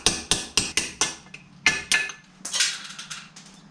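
A hammer strikes a 7/32 punch to drive a pin out of a Getrag 260 transmission from an E30, giving sharp metallic taps in a quick series, then a few more spaced hits and a scraping rattle, close and clear.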